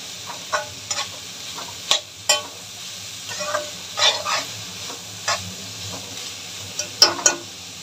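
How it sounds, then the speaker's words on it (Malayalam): Sliced onions sauté on high flame for a chicken roast, with a soft continuous sizzle broken by repeated sharp scraping stir strokes from a spoon against the pan, close and clear with no talking. "നല്ല ഹൈ ഫ്ലെയിമിൽ ഇത് ഒന്ന് വഴറ്റി എടുക്കട്ടെ."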